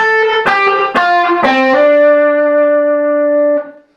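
An electric guitar plays the keyboard part of a song, picking a short run of single notes with a clean, effected tone, then holds the last note as it rings out and fades.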